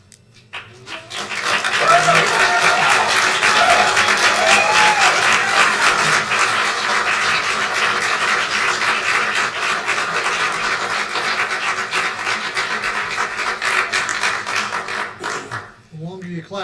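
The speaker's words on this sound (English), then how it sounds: "The longer you clap, the longer we're staying." An audience at a planning commission meeting claps steadily and densely for about fourteen seconds, fairly close and loud, then fades out, with a voice briefly heard at the end.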